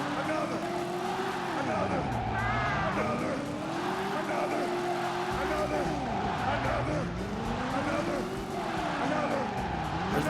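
Video game car engine revving and skidding through a handbrake turn, with sweeping engine pitch rises and falls and tire squeal over steady game sound, loud and continuous.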